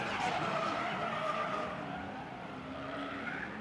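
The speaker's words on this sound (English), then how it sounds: "Trevor Jameson in this borrowed Corvette from Drift HQ, trying to get used to this car as quick as he possibly can" A borrowed Corvette drift car skids through a qualifying run, its tires squealing in a long, loud, continuous screech over a roaring engine that slightly fades as the car moves away.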